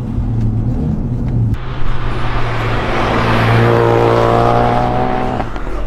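A Ford Focus RS engine roars loudly and close on a race track, climbing through the revs with a sharp shift midway, sustained and dominant throughout.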